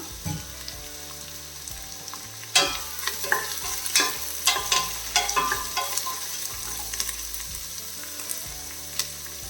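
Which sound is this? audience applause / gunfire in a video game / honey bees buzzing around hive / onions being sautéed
onions being sautéed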